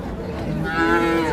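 A single crossbred calf moos nearby at the Hazratpur cattle market, a long low drawn-out call that swells and holds, over faint background murmur.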